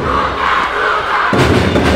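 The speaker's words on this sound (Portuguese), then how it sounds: "E a torcida pede gol, a torcida pede gol" A school-games football crowd in the stands chants and roars for a goal, a dense, loud mass of voices with thumps and a surge of noise partway through.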